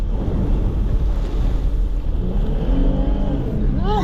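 A Jeep Gladiator drives through a flooded puddle during a hurricane, a steady loud wash of water and wind with engine rumble throughout, close and constant, with heavy microphone buffeting and no clear break.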